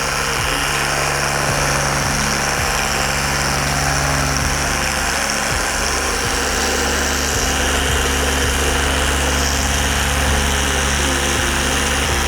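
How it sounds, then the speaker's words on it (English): A machine polisher whirs steadily while correcting paint on a BMW E46 M3, a constant loud motor drone with a hum and faint rhythmic clicks, running without pause and with no talk. "angle the polisher so that you're not chipping away at the peak"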